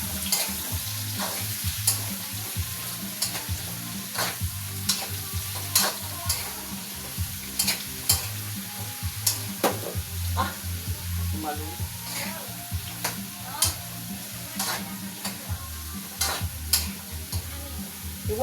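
Food fries in a small amount of cooking oil in a pan for a family dinner, a continuous sizzle broken by frequent clinks and scrapes of stirring, with occasional speech nearby.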